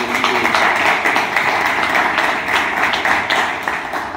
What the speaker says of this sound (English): let's give the staff a big round of applause.